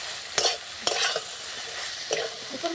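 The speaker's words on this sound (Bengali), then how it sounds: "নাড়তে নাড়তে দেখুন পেঁয়াজটা কিন্তু অলরেডি ভাজা ভাজা হয়ে গেছে।" Chopped onions being stirred in a frying pan for Nepali veg choila, a few distinct scraping strokes of the spatula over a soft, steady sizzle, close and fairly quiet with no voices.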